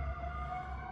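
An emergency vehicle siren wails outside, a sustained tonal whine with harmonics held steady over low background rumble, moderately loud and heard from a distance, with no talk over it.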